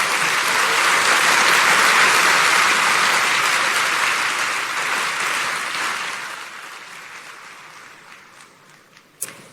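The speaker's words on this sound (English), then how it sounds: "Let's give them a round of applause." Audience at the 141st IOC Session in India applauds loudly and steadily, the clapping gradually thinning and fading toward the end, with one sharp knock near the close.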